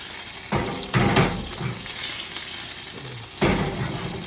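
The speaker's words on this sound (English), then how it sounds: "I'm going to do like a saute for her." Parsnip and potato pieces are stirred and sautéed in a hot pan, giving a steady sizzle that surges with a few scraping stirs before settling back into even frying.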